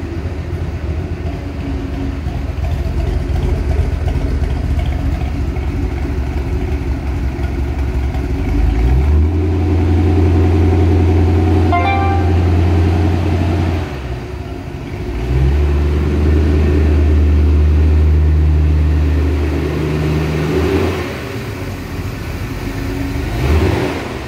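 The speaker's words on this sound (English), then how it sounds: "it's the car running. Nice, beautiful 70 HG Monaro I got here" A 1970 Holden HG Monaro engine idles with a rough, throbbing exhaust burble. It is loud and close, and the low rumble swells in two stretches as the engine is blipped, then settles back to idle.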